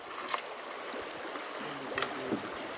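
Fast-flowing river water on a wilderness canoe expedition, a soft, steady rush with faint gurgles and knocks, heard quietly and with no voices.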